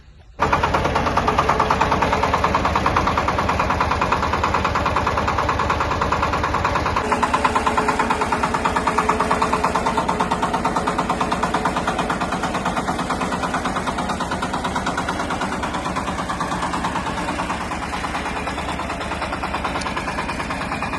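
A tractor engine idles with a steady, loud, low knocking rumble while machinery such as a cultivator is being loaded, running continuously with no speech.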